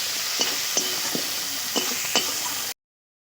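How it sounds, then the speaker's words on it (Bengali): Finely chopped onions fry in a hot pan with a steady sizzle, while a spatula stirs them in a few distinct scraping knocks spread across the stretch before it cuts off. "পেঁয়াজটাকে একটু ভালো করে নাড়াচাড়া করে নেব।"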